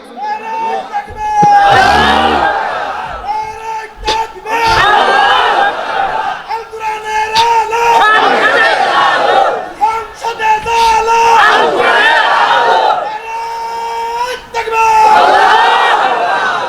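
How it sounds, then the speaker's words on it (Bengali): A rally crowd roars a takbir chant in loud repeated waves, voices swelling together in call-and-response bursts with a harmonic lead voice between them, filling most of the stretch. "দেন একজন তাকবীর দেন দেখি"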